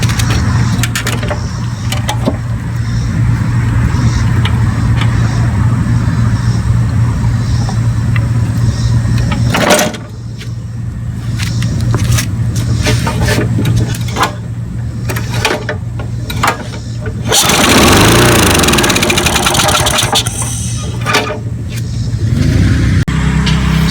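A Briggs & Stratton 4.5 HP Quantum XTE small engine with a fault that makes it run wide open and stall under load, running loud and close with a steady drone, a brief dip, then a harsher surge near the end.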